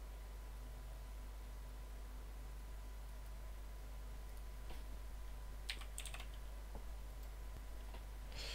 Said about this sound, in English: Chris is typing